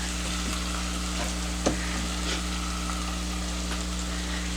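Garlic frying in a pan for Greek spanakorizo with tomato, spinach and rice, a steady soft sizzle over a constant low hum with one brief clink, no voices.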